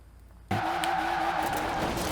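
An off-road car in a drift car video game skids and slides after a sudden start, a loud steady engine drone with tire squeal carrying on without pause.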